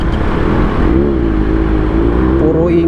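A Kawasaki ZX6R motorcycle exhaust revving, a loud close engine drone that climbs and falls in pitch through the throttle blips.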